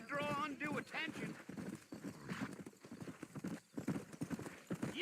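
Horse hooves clip-clop steadily in a western game set in the Red Dead Redemption world, moving at a walking pace under continuous men's conversation and an occasional whinny.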